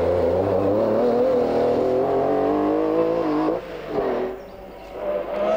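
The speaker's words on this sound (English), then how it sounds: "the car's down on power, running on only 5 of its 6 cylinders" A Metro 6R4 rally car at a Scottish rally runs down on power with a dislodged spark plug lead, firing on five of its six cylinders. It gives a steady, loud, rough engine drone with a brief dip near the end, and no voices.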